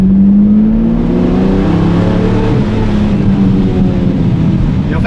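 Lamborghini Murciélago LP-580 V12 with a manual gearbox drones loudly on light throttle, its deep steady resonance holding and shifting gently in pitch for several seconds.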